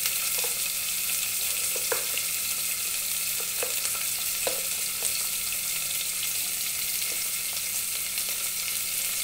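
Tempering seeds, chopped onion, green chilli and curry leaves frying in hot oil give a steady, close sizzle with scattered pops and light stirring scrapes, continuing alone without any talk.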